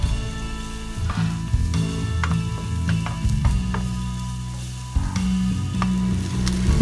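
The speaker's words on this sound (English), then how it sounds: "Heat up the pan over medium heat. Add 2 teaspoons of oil. Sauté the onions." Onions sauté in a couple of teaspoons of oil in a pan over medium heat, a close, steady sizzle broken by repeated clicks and scrapes of a utensil, with a low droning hum behind and no speech.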